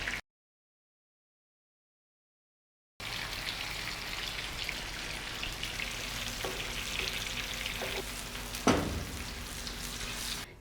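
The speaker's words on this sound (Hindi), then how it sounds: "बाकी के कबाब भी हम अच्छे से फ्राई कर लेंगे" Seekh kebabs fry in hot oil, a steady soft sizzle and crackle heard alone after a brief silence, with a couple of faint clinks or stirs partway through.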